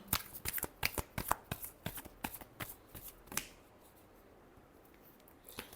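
Tarot cards are shuffled by hand close up, a rapid series of crisp snapping riffles for about three seconds, then quieter faint handling.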